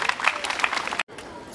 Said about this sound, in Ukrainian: Привітаємо оплесками.